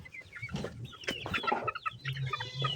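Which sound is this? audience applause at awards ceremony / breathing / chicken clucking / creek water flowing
chicken clucking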